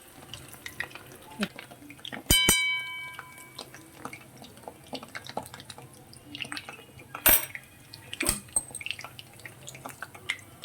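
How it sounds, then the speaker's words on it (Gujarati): A metal spoon knocks and scrapes against a pan while separating stuck-together dal vadas frying on low flame, a few sharp clinks standing out over faint bubbling oil. "આ રીતે ચમચીથી અલગ કરી લેવાનું"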